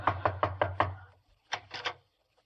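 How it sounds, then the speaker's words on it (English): A knuckle rapping on a house door, five quick evenly spaced knocks, a short pause, then three more, close and moderately loud with no voices. "I'll knock."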